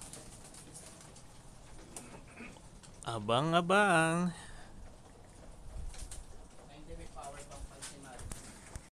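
Racing pigeons coo in a short burst, heard near and fairly loud, while a voice speaks briefly in the background.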